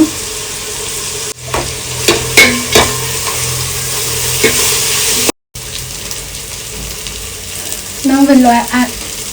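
Roughly chopped tomatoes, coriander and mint hit a hot pan for jackfruit biryani, giving a steady close sizzle with scraping stir strokes and a few clunks, a brief gap, then louder hissing toward the end.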